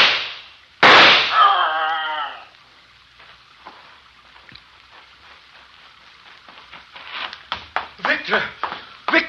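A single sharp gunshot sound effect cracks out abruptly in a radio drama of Frankenstein, followed by a brief ringing tail and then voices speaking.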